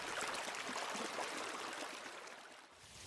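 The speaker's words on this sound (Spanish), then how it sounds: "El murmullo del río y las piedras." A river murmurs over stones in a steady broadband rush of flowing water, fairly close and continuous, easing slightly toward the end with no one speaking.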